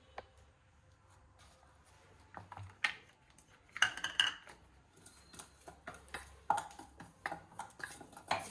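A spoon stirs cocoa powder into oats powder in a bowl, with close, faint scattered clinks and scrapes of metal against the dish in an irregular rhythm, with no talk.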